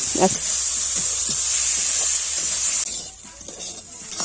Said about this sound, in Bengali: ঢাকনা দিয়ে পুরোটা এই ভাজাটা করে নিতে হবে